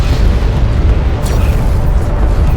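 A strike fighter blowing up in Homeworld: Deserts of Kharak: a loud, sustained booming explosion with a dense low rumble that fills the whole moment, steady and heavy without a clear single onset.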